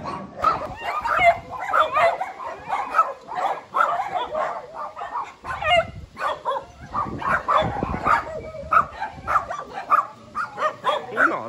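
A golden retriever rescued from a dog-meat truck whimpers and gives short yips and barks close by, the sounds coming in uneven bursts throughout, with a person talking intermittently.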